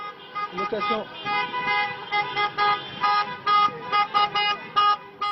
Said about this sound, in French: Ce Tunisien est en train de découvrir que ce concert de klaxon n'a rien de spontané.